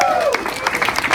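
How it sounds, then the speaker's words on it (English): Audience applause at a fan convention Q&A panel, a brief burst of many hands clapping from a crowd, fairly loud and dense with a faint tonal sweep at the start. "a big round of applause for the tech guy here"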